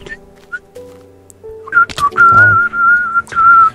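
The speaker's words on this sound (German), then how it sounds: "das Pfeifen ist echt widerlich in den Ohren" A person whistles a sustained, wavering tone over background music during Minecraft play, starting about midway and continuing loud and close to the end with a brief break.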